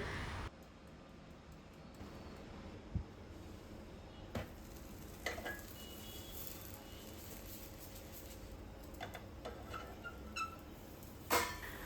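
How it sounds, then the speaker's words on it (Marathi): Cheese pizza sits on a hot griddle while the cheese melts, giving a steady low sizzling hiss with a few scattered clicks and light clatters, without talk. "हे फक्त थोडा वेळ तव्यावरती ठेवलं ना तर हा जो चीज आहे ना तो पूर्ण छान मेल्ट होऊन जाईल"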